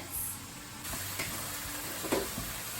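Lemon chicken pieces sizzle steadily in a pan, a soft continuous frying hiss with a few faint ticks and stirring touches.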